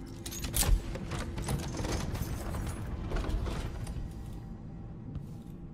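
Door lock mechanism in the video game Dishonored 2 clicking and creaking shut, a short mechanical clatter up front followed by a steady, faint rumble of game ambience.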